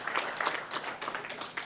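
Brief, moderate applause from a conference audience of nurses greeting a colleague called forward, scattered quick claps blending into a soft ripple that fades slightly before a final burst.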